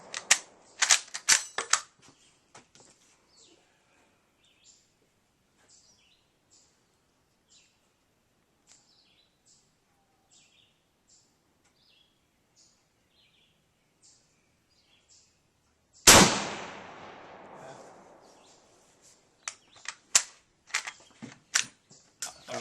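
A WWII Italian Carcano 91/41 rifle in 6.5x52mm fires outdoors: a few sharp cracks at the start, then long quiet with faint ticks, one loud shot with a rolling echo, and more quick sharp reports near the end.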